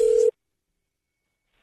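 A telephone line emits a single short, steady tone at the start of a prank phone call, then cuts off to silence.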